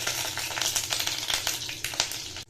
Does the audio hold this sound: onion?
yes